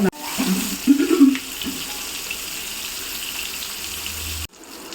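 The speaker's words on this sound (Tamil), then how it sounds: "நம்ம இறா வந்து ஒரு பக்கம் ஃப்ரை ஆயிடுச்சு" Prawns frying in a pan give off a steady, close sizzle and hiss that runs evenly for several seconds before cutting off abruptly near the end.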